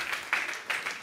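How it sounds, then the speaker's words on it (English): An audience claps in a short, brisk burst, with a few sharper hand-clap peaks standing out from the crowd. It lasts only about a second. "Your applause, much appreciated."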